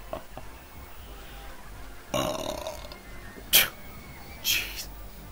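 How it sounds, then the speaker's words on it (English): A man lets out a few loud burps while playing a theme-park building game, with short bursts spaced apart over a quiet background. "Burp!"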